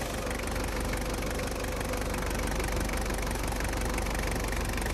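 A Toyota Hiace Regius KCH46 van's 1KZ-TE diesel engine idles steadily with an even, continuous rumble and faint ticking, constant in level from start to finish, no voices.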